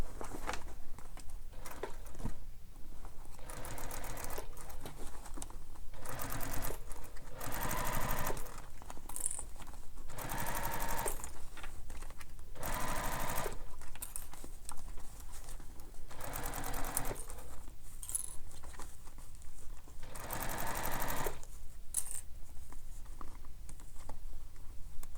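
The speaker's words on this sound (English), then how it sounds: "So now I'm going to sew this with the seam allowance given in the pattern." Sewing machine stitching a bag seam, running in repeated bursts of steady needle chatter separated by short pauses, close and loud with no talking.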